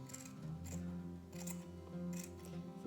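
Scissors trimming the edges of a yarn pompom, three or four distinct close snips spaced evenly over a faint background.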